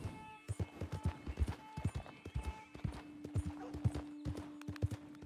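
A horse is ridden at a steady trot in Red Dead Redemption 2, its hooves clip-clopping rhythmically and quite clearly under a faint constant hum, with occasional soft creaks.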